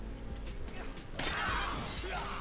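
In the video game Dead Rising 2, a pane of glass shatters suddenly with a bright crash that rings on briefly, following quieter game ambience.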